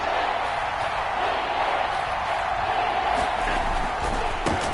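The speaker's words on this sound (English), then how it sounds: "the crowd getting into it as we come up on a big 3rd down" A stadium crowd at a football game roars and cheers ahead of a big third down, a dense sustained wash of voices throughout with faint commentary mixed in.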